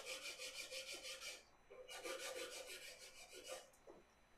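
Sandpaper on a stick rubs a small wooden spiral finial smooth in quick back-and-forth strokes, three bursts of rasping with brief pauses between, close and quiet.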